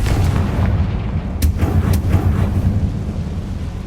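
A Confringo fire spell explodes in Hogwarts Legacy, giving deep booming blasts with a couple of sharp cracks over a steady low rumble.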